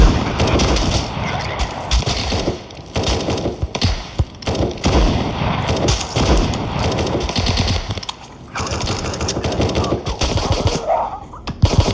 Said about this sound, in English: Oh, you're gonna shoot me again.